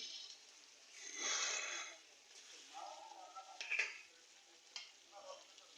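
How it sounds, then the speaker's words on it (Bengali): Meat being fried and stirred with spices in a pan: soft sizzling under scattered scraping strokes, fairly faint and close, with brief moments of voice. "এই যে প্রথমে সব মশলা দিয়ে আমি মাংসটা ভালোভাবে কষিয়ে নিচ্ছি"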